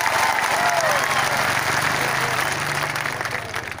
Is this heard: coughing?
no